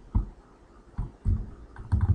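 Several short bursts of keystrokes on a computer keyboard while editing a chart title in JMP software, close and fairly quiet with small pauses between clusters of taps.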